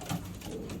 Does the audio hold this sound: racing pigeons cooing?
yes